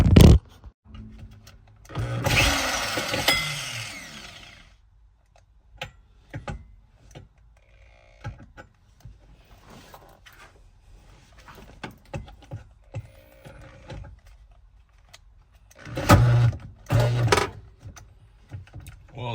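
An electric drill bores into a car fuel pump hanger for a Walbro 525lph pump in a Honda Accord, giving loud whirring bursts near the start and again near the end, with tapping and handling clicks in between.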